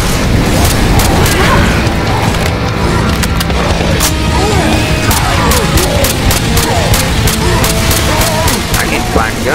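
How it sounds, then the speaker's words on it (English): A gas can blowing up in the video game Left 4 Dead 2, a loud continuous roar of blasts and crackling debris with sharp repeated bangs throughout, running under steady game noise and voices. "Light the gas, it's right there."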